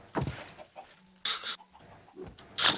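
Chickens cluck in the video game Minecraft, a few short clucks in separate bursts, moderately loud, with no talk over them.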